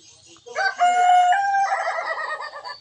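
A rooster in the video game My Yandere Love (remake) crows once, a loud, close, drawn-out cock-a-doodle-doo with a rising start and a long wavering tail, heard alone.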